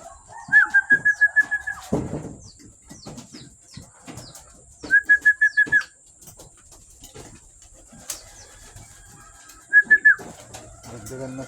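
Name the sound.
pet birds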